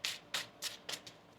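Tarot cards are shuffled by hand in about five quick, crisp riffling bursts at a steady rhythm. The sound is close and moderately loud, and no one speaks.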